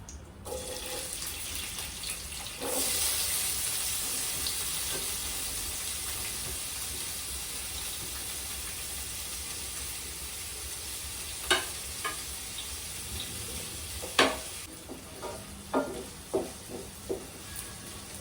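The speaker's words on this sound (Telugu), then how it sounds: "ఉల్లిపాయ మాడకుండా కలుపుతూ వేగించుకోవాలి" Sliced onions fry with cloves and cinnamon in hot oil for mutton keema. A steady, close sizzle runs throughout, and near the end sharp spatula scrapes and taps against the pan come in a loose rhythm. No one speaks.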